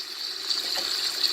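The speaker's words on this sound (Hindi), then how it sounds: "मैं 1 गिलास पानी डाल रही हूँ उसके लिए कि ताकि गोश्त गल जाए" A glass of water is poured into a cooking pot of meat with ginger-garlic paste and tomato, a steady close hissing gush throughout.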